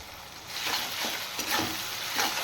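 Tomatoes and turmeric frying in a pan while being stirred, a steady close sizzle with a few louder scraping stirs, no talking.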